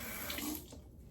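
Tap water runs briefly into a sink while shaving soap is being lathered, a soft close splash that fades out within about a second.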